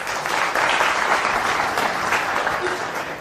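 Audience at a religious gathering clapping in a sustained burst of dense, steady applause from a crowd, filling the whole moment at moderate loudness.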